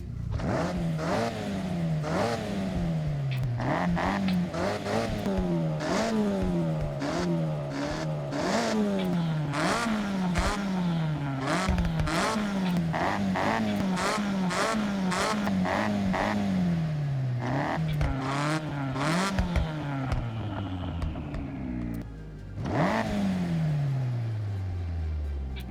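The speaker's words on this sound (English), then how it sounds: "this race exhaust is going to give us like the" A racing car engine with a race exhaust in Forza Horizon 6 revs repeatedly, its pitch climbing and dropping again and again through gear changes, loud and continuous, with a brief dip near the end.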